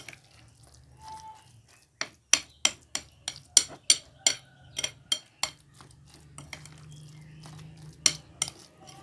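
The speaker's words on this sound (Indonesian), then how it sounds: "Kita campur lagi sampai tercampur." Tofu being mixed with spices and ground pepper, a utensil clinking repeatedly against a bowl in a quick series of sharp, close taps, then a pause and a couple more clinks.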